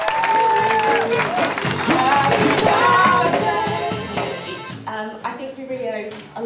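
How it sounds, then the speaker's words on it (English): Applause and cheering from a crowd at a tenth-birthday events celebration, loud and sustained, then thinning into scattered claps at the end. "A huge round of applause for 10th place for all their efforts."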